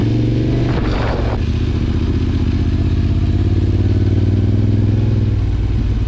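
Yamaha MT-07 motorcycle being ridden, a loud continuous engine drone with a rising, pulsing note and a brief burst of wind or clatter near the start.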